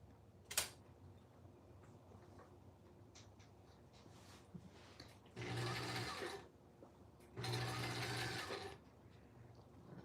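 A sewing machine stitches over the bulky ear of a handmade puppet, running in two steady bursts of a few seconds each, separated by quieter handling sounds, close and clear.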